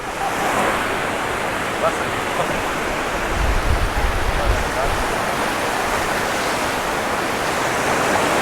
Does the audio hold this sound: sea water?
yes